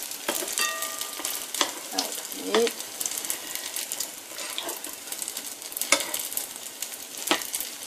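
Food browns in a hot frying pan with a steady, close sizzle, broken by sharp crackles and pops that flare up now and then throughout.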